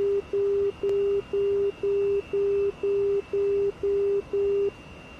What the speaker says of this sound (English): You just passed the outer marker beacon